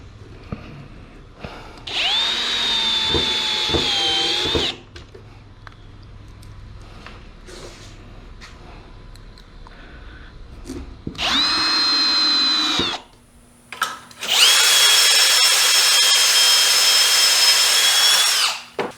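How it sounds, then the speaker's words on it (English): A power drill whines in three bursts, driving screws into a wooden herb planter box, each run steady and loud, separated by quiet pauses with faint handling noises. "then drill down into the holes, and it'll lock this in place"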